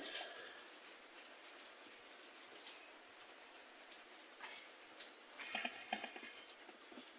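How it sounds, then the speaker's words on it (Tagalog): Steady rain patters on a surface, a continuous soft hiss with scattered drop ticks, fairly quiet and uninterrupted by talk. "Naririnig nyo yung ulan."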